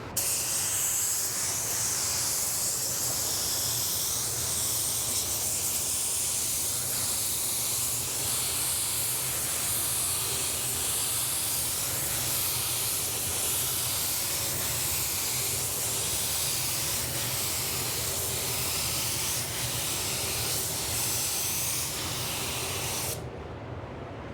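A spray gun lays down Spies Hecker Hi-Tec wet-on-wet clear coat during reverse blending on a car panel, a steady, close, continuous hiss of atomizing paint that runs unbroken and then cuts off abruptly near the end.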